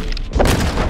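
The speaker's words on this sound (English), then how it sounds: "let's go ahead and see if we can detonate it." A dynamite satchel goes off in the Hunt: Showdown video game, a single short, heavy boom with a thudding low burst, heard alone.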